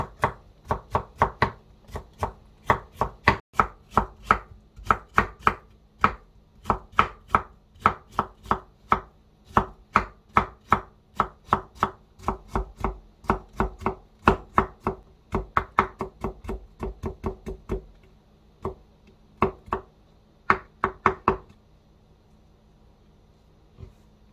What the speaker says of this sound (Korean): 얇게 채를 썰어줄 거예요.